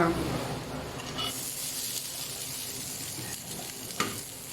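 Luncheon meat frying for fried rice, a steady close sizzle and hiss with occasional stirring scrapes, loud throughout with faint voices in the background.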